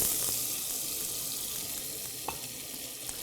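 Onion dropped into olive oil and melted butter, a soft, steady hiss of frying with occasional faint stirring taps, fairly quiet and with no voices.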